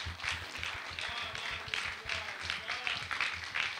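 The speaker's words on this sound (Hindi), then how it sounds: "बहुत जोरदार तालियां।" A seated audience at a Hindi motivational summit claps steadily and fairly faintly for several seconds, a continuous patter of many hands with no voices over it.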